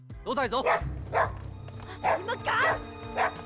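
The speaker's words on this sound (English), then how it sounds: "That leads to barking and howling at all hours of the night" Dog barks and yips come in short bursts, fairly close, with some whimpering tones between them.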